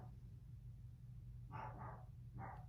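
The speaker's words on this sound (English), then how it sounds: "my dogs are going nuts" Pet dogs indoors give a few sharp barks, two close together and then one more after a short pause, fairly loud and near over a low steady hum.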